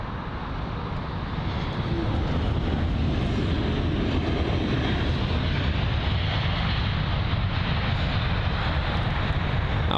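A British Airways Airbus A319 arriving from Prague lands at London Heathrow, its engines giving a broad, steady roar that swells after the first couple of seconds and then holds loud and constant, with no voices.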